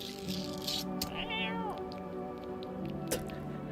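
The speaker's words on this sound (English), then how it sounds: "Little cat sounds." A cat in a spooky video game gives one clear rising-and-falling meow, with a softer cry after it, over continuous game music and small clicks.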